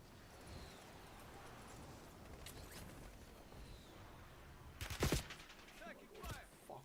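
Video game gunfire: a faint clattering burst of shots rising briefly out of a steady background murmur, with a few scattered distant cracks around it.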